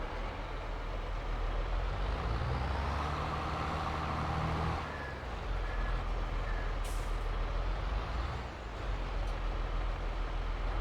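A John Deere 7R tractor in Farming Simulator 22 rumbles steadily with a heavy engine drone, a brief hiss partway through, and a continuous close, loud mechanical roar throughout.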